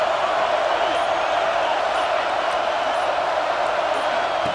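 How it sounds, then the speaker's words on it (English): Stadium crowd in EA Sports College Football 26 near the goal line: a steady, loud, dense roar of thousands of fans, unbroken and without speech throughout. "The crowd really making some noise now, trying to help out this defense to get this stop near the goal line."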